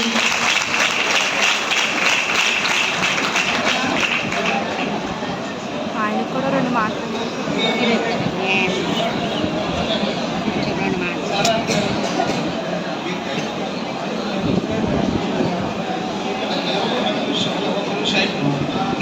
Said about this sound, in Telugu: అందరూ కూడా క్లాప్స్ పడుతుంది